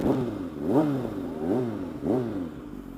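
A Kawasaki Ninja ZX636 sport motorcycle engine revs three times up close, each rev climbing and falling back in pitch, with a brief idle between them.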